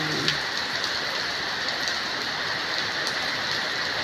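Steady rain pours onto surfaces outdoors during plant watering, a constant dense hiss with scattered close drips and no voices.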